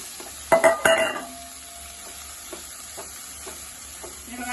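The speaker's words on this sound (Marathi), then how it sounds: "ती कोथिंबीर टाकून कोथिंबीर चांगली थोडीशी शिजवून घ्यायची" Coriander leaves are stirred and cooked in a pan for a crisp coriander vadi, with a few sharp utensil scrapes and clatters early on, then quieter scattered stirring over a faint sizzle.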